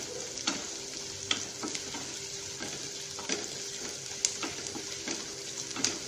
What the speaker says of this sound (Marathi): लालसर असा कांदा भाजून घ्यायचा आहे, परतून घ्यायचा आहे.